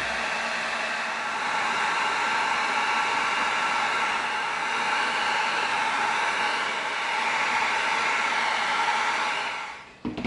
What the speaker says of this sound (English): Now we're gonna heat seal it and we're gonna open up our creases.